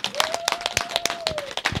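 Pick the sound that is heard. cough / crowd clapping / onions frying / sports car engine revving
crowd clapping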